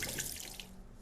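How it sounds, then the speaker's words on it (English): Tap water runs steadily into a sink while hands are washed with soap after inner protective gloves are removed during PPE doffing. A close, continuous splash with no talking. "Remove your inner gloves and wash your hands using soap and water."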